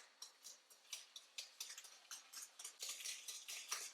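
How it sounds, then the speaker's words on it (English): Cider vinegar and vanilla extract whisked together in a bowl, a steady run of quick, light metallic clicks and taps from the whisk, close and fairly quiet with no voices. "we're going to whisk it all together"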